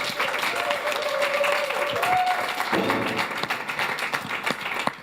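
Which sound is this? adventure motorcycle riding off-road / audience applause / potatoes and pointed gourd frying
audience applause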